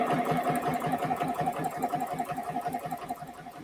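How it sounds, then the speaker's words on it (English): A sewing machine stitches a line down in a rapid, steady mechanical chatter with an even motor whir, close and continuous throughout, with no talking. "sewing this line down"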